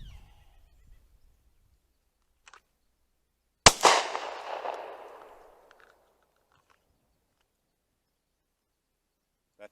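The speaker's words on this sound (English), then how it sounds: "I'm gonna do a single shot out of my pistol" A single pistol shot fired outdoors, one sharp loud crack followed by a long fading echo, with near silence before and after.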